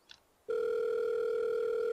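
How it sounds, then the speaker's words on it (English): A telephone rings in the horror visual novel The Letter, a steady electronic tone starting after a short quiet pause and holding loud and unbroken to the end, with no voices. "The phone rings for a good minute before someone answers."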